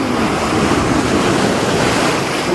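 Sea waves break on the shore at Paphos, Cyprus, a loud, continuous wash of surf and hiss, close by and unbroken, mixed with some wind noise and no talking.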